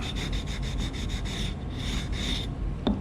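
Rapid back-and-forth strokes of 320 grit sandpaper on a guitar headstock repair, close and fairly quiet, a run of quick even rubs followed by a few longer strokes, then a light tap.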